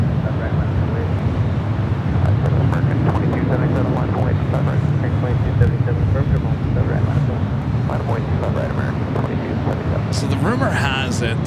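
An American Airlines Boeing 777-200ER landing on runway 25 left, a broad, steady engine roar with wind buffeting on the microphone, loud and unbroken throughout, with voices talking over it.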